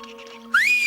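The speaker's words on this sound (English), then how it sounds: "That was only a whistle to call Henry." A shrill whistle blown to call a swan named Henry cuts in suddenly, sliding upward and then holding a steady, piercing note, loud and close after a faint tonal hum.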